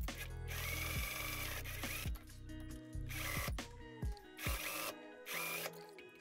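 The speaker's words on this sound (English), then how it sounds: "put the stitching lines right on top of each other and sew over top there, same to the back piece right here" Sewing machine stitching jacket fabric pieces together along matched stitching lines, running in several bursts of rapid mechanical whirring separated by short pauses.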